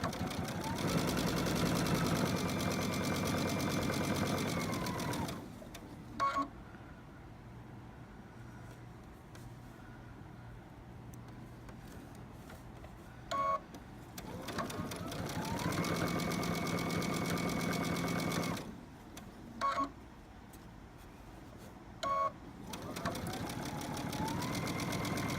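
A home sewing machine runs straight-stitch seams on a tiny preemie shirt, loud steady whirring bursts of several seconds separated by quiet pauses and brief clicks as the fabric is adjusted.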